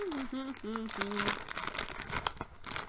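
A voice sings or hums a few short notes, then plastic crinkles and rustles steadily as a wrapper is worked open.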